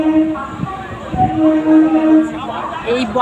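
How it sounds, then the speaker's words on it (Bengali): A train stands at Bardhaman railway station, with a steady low rumble under tonal hums and squealing, and people talking nearby on the platform. "পৌঁছে গেলাম আমাদের প্রথম হল্ট বর্ধমান স্টেশনে"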